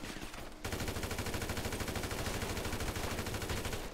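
Rapid machine-gun fire in a video game shooter played at the Games Arena, a dense continuous rattle of shots that starts abruptly after a brief lull and keeps going loud and close to the end.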